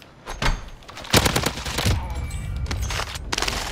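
Hostile gunfire in Warzone, several sharp bursts and shots at varying distances over a few seconds, with sustained rattling in between.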